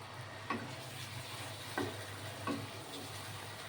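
Garlic chicken sizzles quietly in a pan after a cup of water goes in, a steady low hiss with three soft knocks of a spoon, and no one talks.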